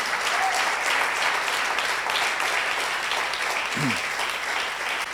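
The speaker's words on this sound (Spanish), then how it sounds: "Dele otro aplauso al Señor por eso." A church congregation applauds during a Spanish-language service, many hands clapping in a dense, even burst that stays loud and steady, with a brief low vocal sound near the end.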